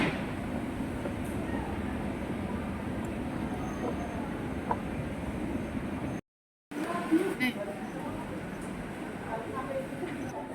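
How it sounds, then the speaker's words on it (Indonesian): Steady crowded ambience inside Solo Balapan train station, a broad continuous rumble of trains and people with faint murmurs, briefly cutting out midway before resuming. "Ini di stasiun Solo Balapan."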